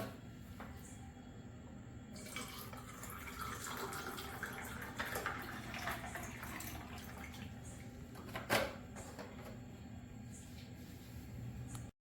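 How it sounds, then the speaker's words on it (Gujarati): Cold water is poured into a glass of wood apple (bael) sharbat over a few ice cubes, giving a steady, moderately loud pouring wash with one brief clink-like splash near the end. "પાણી નાખીશું."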